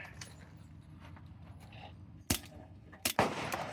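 A restored Beretta 71 pistol is fired outdoors, with a couple of sharp, fairly quiet reports close together after a stretch of low ambient rustling.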